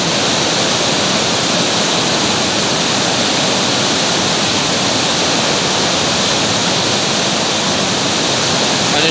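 A stream in Switzerland flows toward a tunnel, giving a loud, constant rushing wash of water with no break and no voices.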